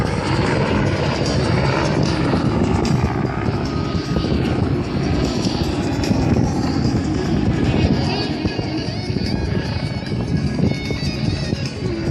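Red Bull helicopter performing at the Camarillo air show, a loud, steady rotor and engine roar that fills the whole stretch with little change, close and continuous with crowd or wind noise mixed in.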